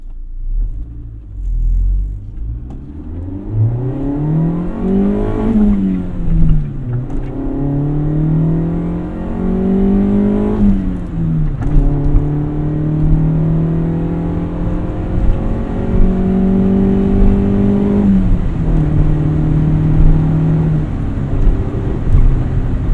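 A 1988 Honda CRX Si engine pulls hard through the gears while driving, its note rising steadily, dropping at shifts around five and eleven seconds, then climbing again over continuous road rumble, loud and close throughout.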